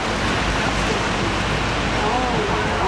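A dense, steady roar of a waterfall pours onto a tour boat on a New Zealand river, a loud broadband wash with no breaks for the whole moment.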